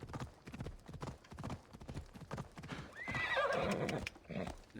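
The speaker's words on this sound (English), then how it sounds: "materialize our horse out of nowhere." Horse hooves clip-clop in a steady rhythm, then a loud, close whinny with a wavering pitch, from a horse summoned in the ancient Greek open-world game Assassin's Creed Odyssey on a mountainside.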